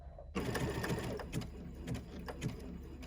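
A sewing machine stitches a button on with a fast, steady mechanical chatter of the needle close by. It starts abruptly after a brief silence and runs without pause, with no voices.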